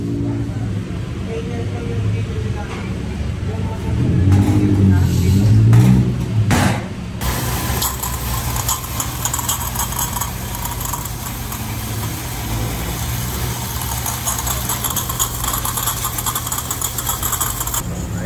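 A Pajero Army Jeep engine idles nearby, swelling briefly in a louder rev early on before settling into a steady, rough running hum with a hissing background.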